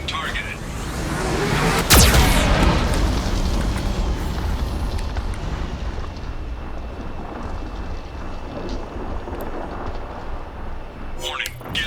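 A heavy Geth cannon blast booms once early on in the video game Mass Effect, then a long rumbling roar and crackle of fire lingers and slowly thins out, with a voice briefly heard at the end.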